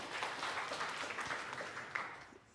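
A church congregation applauds during an Indonesian-language sermon, a steady wash of many hands clapping heard from a distance, fairly even throughout.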